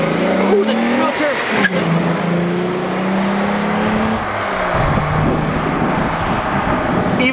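A 12-valve VR6 car engine with almost no exhaust revs and drones loudly with a raw, unmuffled tone, pitch rising and falling through gear changes, with voices talking over it.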